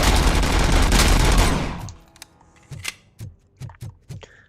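Automatic pistol gunfire in the video game Robocop Rogue City: a loud, sustained burst of rapid shots lasting about two seconds, followed by several separate sharp single shots with short gaps between them.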